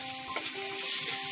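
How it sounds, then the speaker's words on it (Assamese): Jackfruit seeds fry in oil with turmeric and salt in a kadai, giving a steady close sizzle with a scrape or two of a stirring spoon, brief and moderately loud, with no talk. "আৰু এইখিনি এতিয়া ভালদৰে মিক্স কৰি অকণমান টাইম ভাজি ল'ম।"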